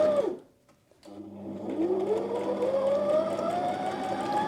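A Brother XM2701 sewing machine stitches a tight satin-stitch buttonhole: after a brief pause the motor starts up and whirs steadily, its pitch rising as it runs close and alone.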